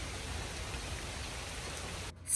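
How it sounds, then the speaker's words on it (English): Steady rain falls outdoors on an Appalachian homestead, a dense unbroken hiss of drops on surfaces that stays even and fairly loud before cutting off abruptly near the end. "It's still raining."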